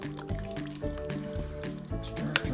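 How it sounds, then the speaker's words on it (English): Spoon stirring thick white chili with beef and cream of mushroom soup in a slow cooker, close wet squelching and scraping in repeated strokes, with faint background tones and no talk. "So we're just gonna stir this."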